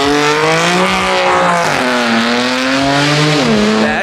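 BMW M3 with a turbocharged engine revving loudly and continuously at close range, its pitch climbing and dropping through several surges over about four seconds.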